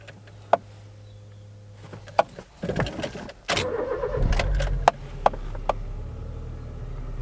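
A cold Honda Jazz engine turns over and settles into a steady, raised idle hum, preceded by a few light clicks and clunks nearby, with no talking.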